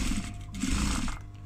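A sewing machine stitching binding onto a fabric project bag, a close, continuous whirring run of needle strokes that briefly slows in the middle before resuming.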